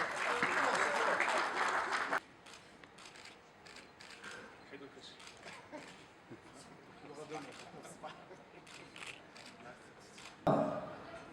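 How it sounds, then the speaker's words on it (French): At an association's awards evening, a strong burst of audience applause opens, then drops abruptly to quieter, scattered claps and rustling room noise before a second loud swell of clapping returns at the close. "sous vos applaudissements, mesdames et messieurs."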